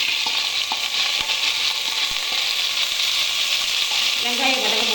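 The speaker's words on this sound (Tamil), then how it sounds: "வெங்காயம் வதங்கும் போதே" Onions sautéing in a pot with bay leaf, cinnamon and cloves for coconut milk pulao give a loud, steady sizzle that carries on throughout, with a few faint stirring taps.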